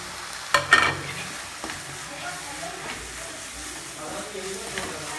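Onion masala with added spices being stirred in a pan for restaurant-style paneer kurma, a spoon scraping and a soft sizzle, one sharp clatter early on, then quieter stirring.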